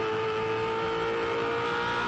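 A Ford Performance Racing Falcon race car at the 2006 Bathurst 1000 drives at full speed, its engine a sustained, steady high-pitched wail heard from onboard, continuous and fairly loud.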